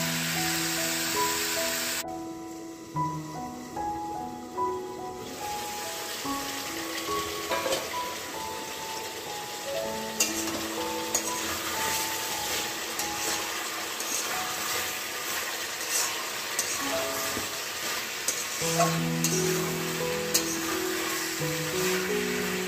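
Food frying in a pan while being stirred, a continuous sizzle with scraping and clinking of the utensil, steady and close, with a brief quieter stretch early on.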